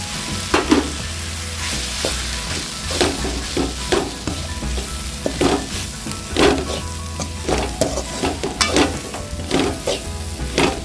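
Grated coconut fried with turmeric and coriander powder for Kerala kadala curry, a loud close sizzle with frequent scraping stirs and clatters of the spoon against the pan, no speech.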